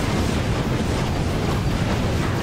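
A Ratchet: Deadlocked fusion rifle unleashes a steady, roaring blast of energy fire, loud and continuous with a thick rumbling low end, heard alone without talk.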